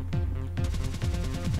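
Quick retro gunshots from the Cave Story game fire in a rapid series of short sharp bursts over a looping chiptune backdrop.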